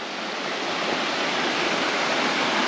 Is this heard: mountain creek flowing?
yes